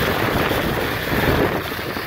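Strong storm wind buffets and roars across the microphone, a continuous loud rushing with no voices.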